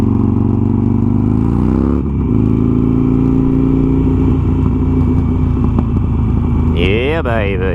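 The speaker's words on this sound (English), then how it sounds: "if you hear any of the exhausts, you know, any of the pops" A Harley Sportster motorcycle with fresh spark plugs idles with a loud, steady engine rumble, then revs sharply upward near the end with a rising whine, heard up close throughout.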